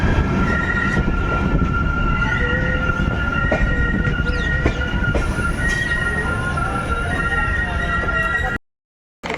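The Amrit Bharat Express pulls into Bolpur Shantiniketan station with a loud, steady rumble of wheels and carriages. Thin squealing tones ride on top until the sound cuts off abruptly near the end.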